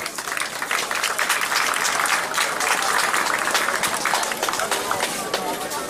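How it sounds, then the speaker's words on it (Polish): An audience at a local community event in a Polish municipality gives warm applause, a loud, sustained wall of many clapping hands that continues at full strength throughout. "Gorące brawa."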